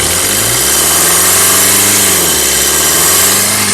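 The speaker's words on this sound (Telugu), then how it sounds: "ఇంజన్ సౌండ్ అనేది కొద్దిగా ఎక్కువ రావచ్చు" A Maruti Suzuki Vitara Brezza ZDI Plus 2017 diesel engine idles steadily and loudly up close, a constant low rumbling hum with slight wavering tone and no voices over it.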